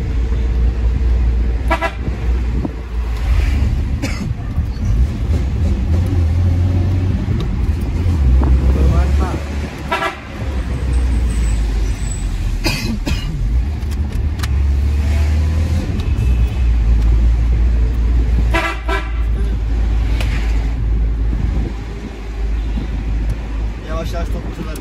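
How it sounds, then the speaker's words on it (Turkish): Several horn toots from a Tofaş Şahin, sounding as short, loud honks over steady engine rumble, with voices talking throughout. "Kornadan çok ses çıkıyor."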